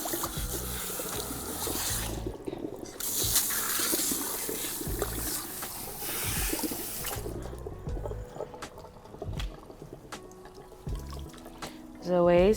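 Running tap water rinses highly textured hair, a continuous splashing flow that swells and thins as the stream moves through the hair, with a sharper surge at the very end.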